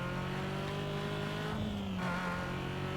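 A continuous droning car engine in the PC racing game Need for Speed: Most Wanted, with a shifting pitch, rising and settling as it revs, steady and moderately loud with no voices.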